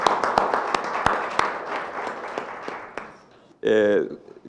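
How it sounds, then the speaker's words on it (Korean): Applause from an audience welcoming a presenter at a National Assembly public hearing on a comprehensive class action law: steady clapping for about three and a half seconds that thins out, followed by a voice speaking. "박수로 환영합니다."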